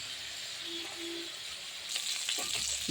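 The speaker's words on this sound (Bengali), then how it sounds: "আমার মাছ ভাজা হয়ে গেছে এবার আমি নামিয়ে নেব" Pieces of stingray fish fry in hot oil in a pan, giving a steady close sizzle and hiss that grows louder with stirring near the end.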